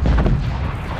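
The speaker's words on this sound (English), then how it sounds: "Hostile artillery targeting active." A heavy artillery strike booms in Call of Duty: Black Ops Cold War multiplayer, a single loud, deep blast with rumbling tail that quickly fades over about a second.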